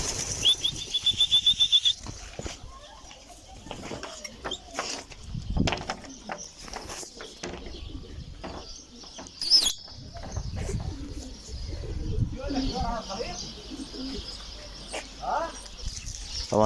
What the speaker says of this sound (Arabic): اليوم راح نفلت الحمام على الخليط